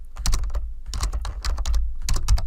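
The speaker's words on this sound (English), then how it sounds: "I'm going to hit the Tab key" Rapid typing on a computer keyboard while entering records into a Microsoft Access table, with repeated Tab key presses; crisp, close clicks come in quick bursts with short pauses between them.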